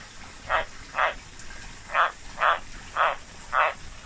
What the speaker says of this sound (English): meet the beautiful white tree frogs